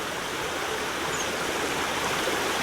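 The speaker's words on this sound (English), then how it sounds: "river, stream, brook, whatever you want to call it." River flowing at Creswell Crags in Derbyshire, a steady, dense broadband rush of moving water that stays constant throughout, with no voices.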